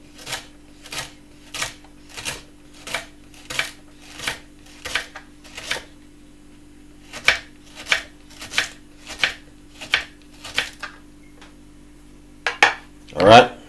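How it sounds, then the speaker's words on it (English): A knife chops through okra on a cutting board in steady, evenly spaced strokes, about a dozen close, crisp knocks with a short pause midway and a louder clatter at the end. "You want to make sure you cut up your okra"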